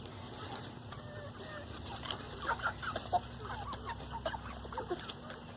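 Chickens cluck in short, scattered bursts while pecking through squash plants and squash beetles in a yard, close by over steady outdoor background noise.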